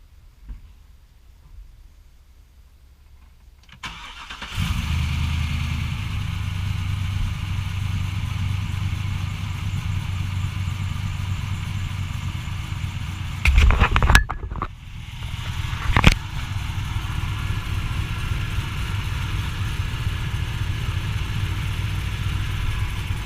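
A supercharged 2008 GMC Sierra Denali engine starts after a few seconds of quiet, then settles into a steady, loud, close idle with a couple of brief revs or clunks partway through.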